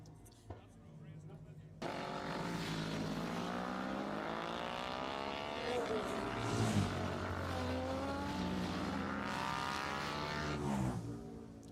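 Honda CB500 motorcycles race past at the Armoy road races, engines revving and rising in pitch as they sweep by close and loud, with a voice talking over the engine noise.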